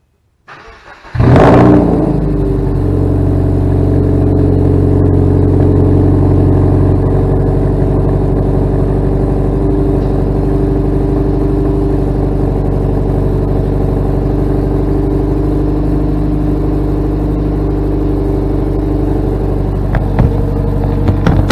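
A cold 2014 Subaru WRX Limited with its turbocharged flat-four fires up after a brief crank, flares loudly, then settles into a steady, rumbling idle that carries on close by with no one speaking.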